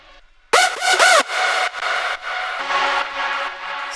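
Screechy synth lead from the drop of a track: after a brief quiet lead-in, loud whining pitch-bending screeches swoop up and down twice, followed by sustained gritty, bright tones in choppy segments.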